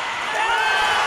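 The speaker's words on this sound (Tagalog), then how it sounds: "hiyawan po dito mga fans ng text" Basketball fans screaming and roaring inside the arena during a TNT Tropang Giga vs Barangay Ginebra finals Game 7, a loud sustained crowd wash lasting about a second.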